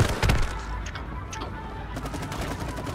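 Rapid gunfire in the co-op video game It Takes Two, a dense burst of shots near the start easing into steady crackling fire with light ticking over ongoing game ambience.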